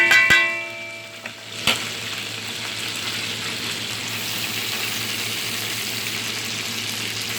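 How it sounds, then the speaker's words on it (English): A whole can of tomato hits a hot pan with a brief clatter, then settles into a steady, fairly loud sizzle that continues evenly with no talking. "So now I'm going to add the tomato."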